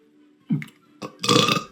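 A man's loud, close burp, a short gulp followed by a longer rasping belch, heard alone with no talking.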